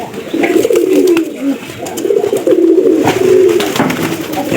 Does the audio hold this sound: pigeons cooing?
yes